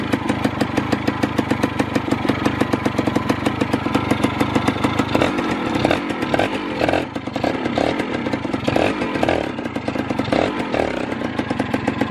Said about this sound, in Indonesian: motornya sudah hidup dengan normal, langsam, enak, di starter langsung greng.